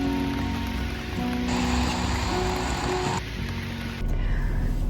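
Steady rain pours down on a wet, rainy day, a dense continuous patter of drops striking surfaces close by with no voices.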